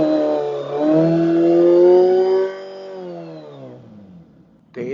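Gen 3 Suzuki Hayabusa engine revving on a dry hop, a steady high rev that holds for a couple of seconds, then falls away and dies down before a brief sharp burst at the end.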